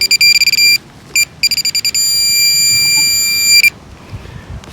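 Sharp electronic ringing from a metal detector passing over a find at an Australian racecourse, several short bursts followed by a longer sustained tone, loud and close, then cutting out to quiet outdoor background.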